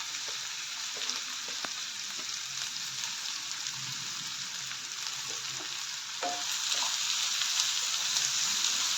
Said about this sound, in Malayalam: വെളിച്ചെണ്ണ ചൂടാകുമ്പോഴേക്കും നമുക്കതിലേക്ക് ചെറിയുള്ളി ഇട്ട് കൊടുക്കാം.